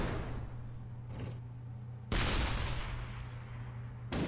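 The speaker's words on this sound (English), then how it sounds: "That's just like a space shotgun." Shotgun-style weapon firing in the Shellshock Live artillery game, two loud booming blasts about two seconds apart, each trailing off into a long rumbling decay over a steady low game hum.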